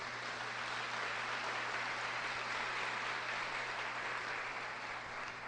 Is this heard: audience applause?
yes